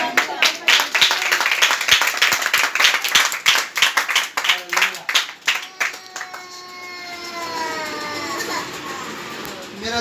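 A church congregation claps loudly in praise of God, sharp rapid hand claps for about five seconds before fading into sustained voices and singing-like tones.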